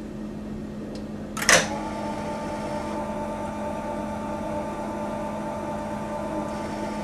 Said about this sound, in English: To run the lubomatic with the Forcimat and the Forcipol, click to the run position